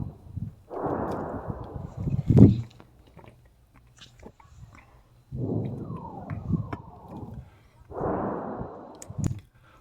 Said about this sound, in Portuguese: dá para ouvir o barulho da munição explodindo